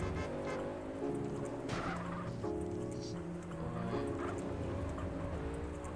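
A car drives in GTA with a Thailand mod: a steady engine drone with shifting, rising and falling tones runs the whole time, fairly close and even, with no talking.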